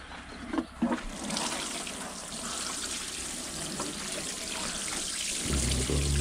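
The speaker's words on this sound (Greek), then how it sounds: "Και τώρα ήρθε η ώρα να ρίξουμε και λίγο νερό" Water poured into a cob building mix of earth and straw: a steady, close rushing pour with a few splashy bursts near the start, continuing without pause.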